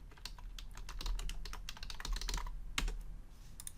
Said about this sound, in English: I'm just going to type in ambient occlusion.